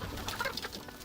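Soft, brief clucking and cooing of rescued hens stepping into snow, a few quiet calls over a low background rustle.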